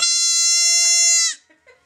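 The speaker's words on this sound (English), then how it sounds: "The kids love these goats." A goat gives one loud, sustained bleat of about a second on a farm in Boise, followed by a few faint, brief sounds.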